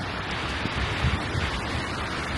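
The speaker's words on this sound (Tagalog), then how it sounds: "Nag-start na yung ulan din." Rain begins falling at a campsite during a severe thunderstorm in Canada, a broad rushing wash mixed with gusty wind and soft low thumps, no voices.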